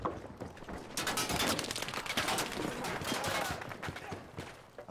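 Gunfire in the game Battlefield 5, a continuous barrage of overlapping rapid shots and bursts at moderate loudness, sustained throughout with a brief opening blast.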